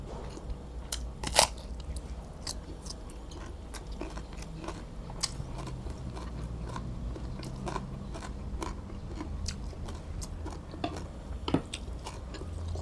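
Crunchy bites and steady chewing of fresh krachiao (Siam tulip) flower eaten with a spicy Thai frog dip, close to the mic, with sharp irregular crunches over a soft mouth-noise background and no talking.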